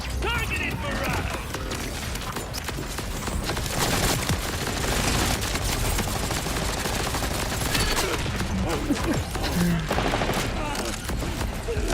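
Dense gunfire barrage from a weapon in the Borderlands 4 video game, a steady wall of rapid shots and mechanical clatter running throughout, with a voice talking faintly under the noise.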